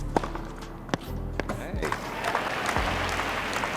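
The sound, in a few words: artificial crowd sound at US Open 2020 tennis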